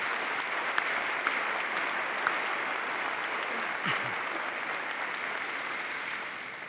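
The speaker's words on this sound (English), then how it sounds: "Let's have a round of applause for these individuals." Steady applause from a university graduation ceremony crowd, a dense even patter of clapping that holds at the same level throughout without letting up.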